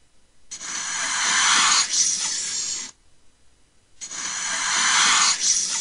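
A snake hisses in two long, loud, breathy bursts separated by a short pause, close by and with no voices.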